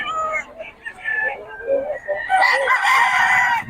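A rooster crows nearby, loud and clear, with clucking fowl around it, and people talk in the background.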